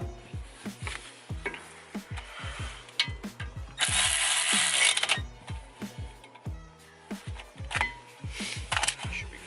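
A ratchet clicks in quick, steady strokes while tightening a bolt on a new brake rotor of a BMW Z4 E85 during a big brake upgrade, with a brief louder whir of the mechanism midway, close and clear with no talk.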